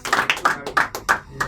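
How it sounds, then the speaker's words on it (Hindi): Scattered audience applause at a Hindi shayari recital, a few rhythmic bursts of hand claps rising and falling close by, moderately loud with no talking. "अगर अच्छी लग रही हो तो तालियां बजाते रहें आप सब"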